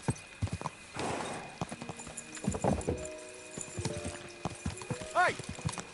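Horse hooves clip-clop at a gallop and a neigh rings out near the end in Kingdom Come Deliverance 2, with someone talking over the hoofbeats.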